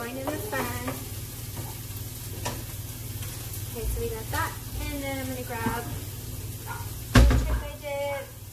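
Ground meat sizzles steadily in a hot pan while a utensil stirs and breaks it into small pieces for tacos, with scraping strokes, a knock near the end and a voice talking over the cooking.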